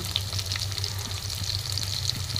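Dried fish (shutki) frying in a pan, a steady dense sizzle with faint crackles, close and continuous with no voices.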